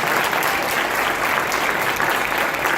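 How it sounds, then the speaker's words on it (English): An audience at a high school winter wind ensemble concert claps steadily and continuously, a full dense round of applause heard alone. "Can we give them a round of applause,"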